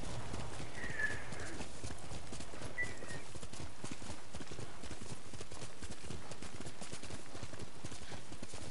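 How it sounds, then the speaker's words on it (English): Steady clip-clop of horse hooves at a brisk, even trot in the video game Ghost of Tsushima, continuous throughout, with a couple of brief whinny-like tones early on. "I need a ride on my horse to get to my mission."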